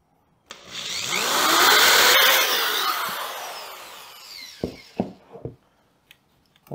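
A power drill bores a hole in a Honda Grom motorcycle, giving a loud, close whine that builds and fades over about four seconds, followed by a few sharp knocks and clacks.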